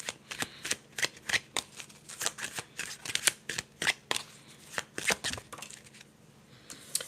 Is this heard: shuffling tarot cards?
yes